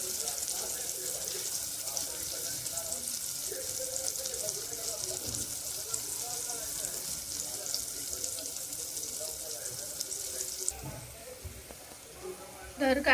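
Onion and tomato fry in oil in a pan, giving a steady hissing sizzle throughout. Someone talks over it at moderate volume.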